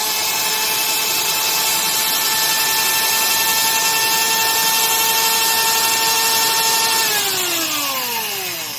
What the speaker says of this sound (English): Anyway, just a neat little router. Moves quite a bit of air.